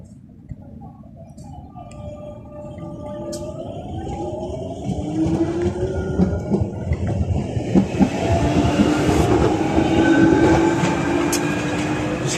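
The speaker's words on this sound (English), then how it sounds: "I love the sound of Jubilee Line trains outside." A London Underground Jubilee Line train rumbles and clatters alongside an outdoor station platform, its motor whine rising in pitch as it passes, growing steadily louder and closer over the span with no talking.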